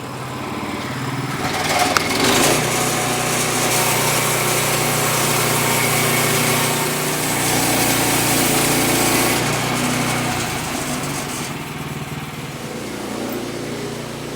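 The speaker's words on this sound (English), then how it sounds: "Now we're going to start milling the log a little bit lower" A Woodland Mills HM122 sawmill cuts through a log with a steady, loud small-engine drone and blade whine that holds throughout, easing slightly toward the end.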